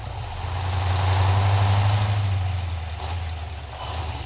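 Military vehicle engines in the video game Squad: a low, steady idling rumble that swells and then eases back, running close by with no talk over it.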